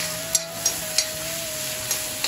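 Spoon scraping through keema mince with mixed vegetables and capsicum in a frying pan, rhythmic clacks over a steady low sizzle, close and alone.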